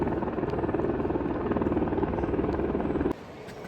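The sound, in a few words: helicopter lifting a package from a Himalayan settlement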